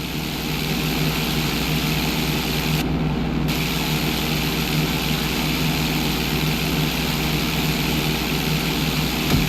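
A propeller airplane in GTA San Andreas roars at steady full power during takeoff. The engine noise is loud, constant and close and fills the whole stretch without pause.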